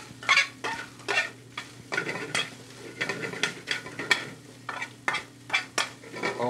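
Bacon lardons sauteing in a pan in a professional kitchen, with repeated stirring scrapes and bursts of sizzle in an irregular rhythm, close and fairly quiet, with no talk.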